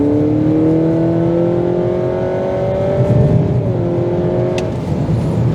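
A 2024 Honda CR-V e:HEV hybrid in sport mode accelerates hard, its engine note climbing steadily in pitch with a brief dip like a simulated shift, loud and near.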